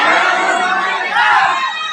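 Live seminar audience shouting together at their neighbours on cue from a presenter, a loud, sustained crowd roar of overlapping voices with no single speaker standing out.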